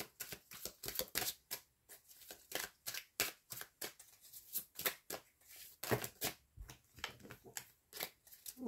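Tarot cards being shuffled by hand, a quiet, steady run of crisp riffling bursts and soft flicks repeating in an even rhythm, close up and without talk.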